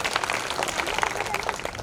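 Crowd applause at a school prize-giving ceremony, dense clapping from many hands held at a steady level, with a voice faintly mixed in beneath.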